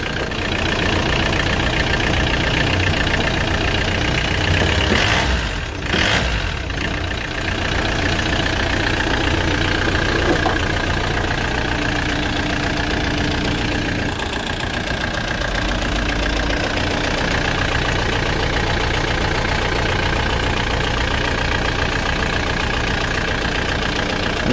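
A Force Traveller van's diesel engine idles steadily just after a cold start, a continuous loud rumble with knocking character throughout, with a brief disturbance partway through.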